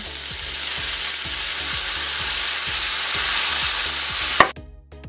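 Mushrooms fry noisily in a pan with coconut aminos splashed in, a loud continuous sizzle broken by regular stirring scrapes, ending in a sharp clatter before the noise suddenly drops away.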